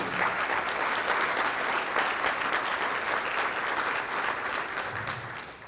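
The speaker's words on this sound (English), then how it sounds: "So let's give them a big round of applause." A morning community event audience breaks into a big round of applause, broad continuous clapping from many people that stays full and even throughout, fading only slightly near the close.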